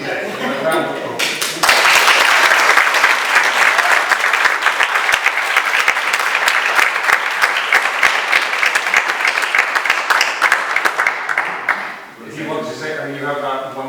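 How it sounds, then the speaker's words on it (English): Sustained audience applause at an academic conference, many hands clapping densely and loudly for about ten seconds before fading, with brief talk before and after. "A round of applause."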